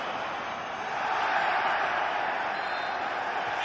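A football crowd at Arsenal vs Real Madrid roars and cheers in a steady, loud wash of massed voices that swells slightly partway through.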